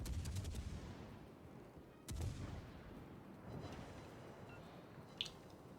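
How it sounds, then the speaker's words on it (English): Heavy naval gunfire from warships in World of Warships, including the cruiser Edinburgh firing over an island: two deep booming salvos about two seconds apart, then rumbling battle noise and a brief sharp crack near the end. "Now the Edinburgh is on the starboard side, firing shots over the island at him."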